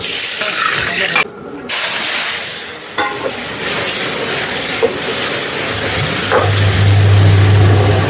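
Scallops stir-fry in hot oil in a flat pan, a loud steady sizzle and hiss with scraping stirs and a short break in the sound partway through.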